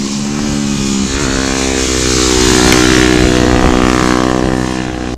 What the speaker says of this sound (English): I believe it's a 2015 FC250 Husqvarna with basically just a big brake kit and Supermoto wheels